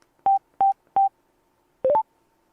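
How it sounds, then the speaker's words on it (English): Motorcycle Bluetooth intercom responding to three clicks of its button: three identical short electronic beeps in steady rhythm, a pause, then a quick rising three-note tone sequence, clean and close with no talk. "it's 3 clicks of the intercom button"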